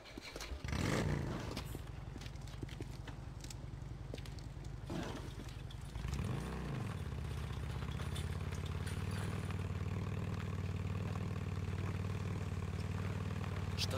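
Motorcycle engine idling in the game Days Gone, a steady low rumble that holds throughout, with a louder rev swell early on and another around the middle before settling back to a constant idle.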